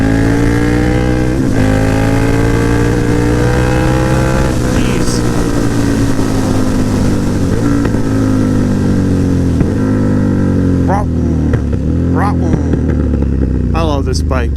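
A KTM Super Duke motorcycle's engine drones loud and close while riding, its pitch rising and falling through gear changes, with wind rush and a rider talking over it.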